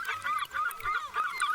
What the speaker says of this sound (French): Les mouettes chantent.